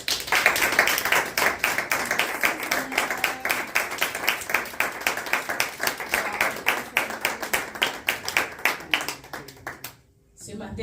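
Congregation in a church clapping steadily in a fast, even rhythm with a crowd murmur beneath, loud and sustained until it drops off abruptly near the end.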